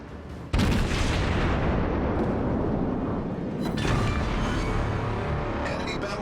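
The Japanese tier 6 cruiser Aoba fires its guns in World of Warships: a heavy, close boom opens into a long rolling rumble, and a second salvo lands midway.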